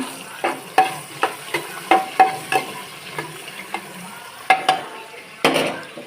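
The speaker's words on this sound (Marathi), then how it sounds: "फुल गॅसवर कांदा फ्राय करून घेऊ आपण" Onions fry in oil over a full flame for chicken biryani, a close sizzle punctuated by regular sharp clinks and scrapes of a spoon stirring against the pan.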